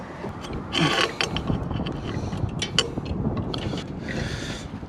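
A drive chain is worked back onto the sprockets of a Toro Dingo 420 compact utility loader with a bent tensioner, giving close, irregular metallic clinks, rattles and ratcheting clicks over steady background noise.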